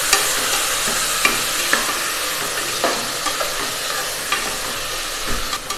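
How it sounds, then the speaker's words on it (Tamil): Five chopped tomatoes sizzle and fry in a pan while being sautéed for paruppu sadam. A steady, close hiss continues throughout, punctuated by intermittent scraping and tapping of a stirring spoon. "இப்போ இதை நல்லா வதக்கி விட்டுடலாம்"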